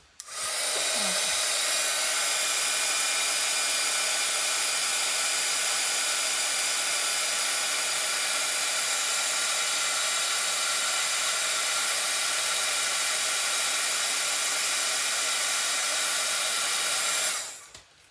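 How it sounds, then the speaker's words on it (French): A heat tool melts embossing powder on a small Christmas pen box craft, running as one loud, steady, close blowing roar for about seventeen seconds before switching off. "Et on va venir chauffer notre poudre."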